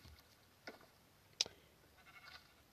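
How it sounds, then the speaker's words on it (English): Sheep bleat in a Minecraft farm barn: three short, fairly quiet bleats spaced apart over faint background noise, the middle one loudest, with no talking. "This farm of sheep. And the sheep in the barn."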